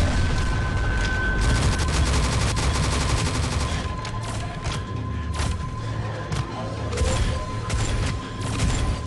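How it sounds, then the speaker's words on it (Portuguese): Rapid bursts of sniper rifle fire in Shadowgun Legends crack through dense background action, shot after shot in quick succession, loud and close with booming echoes. "Tô dando tiro com a sniper"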